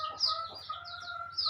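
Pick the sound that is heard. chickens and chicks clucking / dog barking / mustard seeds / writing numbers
chickens and chicks clucking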